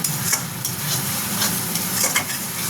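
Shrimp and poppy seed paste sizzle and crackle in a hot pan while a utensil stirs and scrapes, close and continuous.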